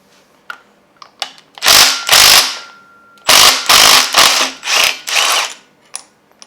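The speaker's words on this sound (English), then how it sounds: "let's pop this cam bolt loose" An impact-type power tool loosens the cam bolt on a Gen 4 Hemi engine during disassembly, firing in several loud, close rattling bursts of about half a second each, separated by short pauses and faint clicks.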